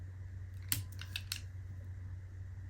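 A few sharp clicks and snips of a blade piercing and cutting a rubber eraser, spaced irregularly over a steady low hum, close and fairly quiet.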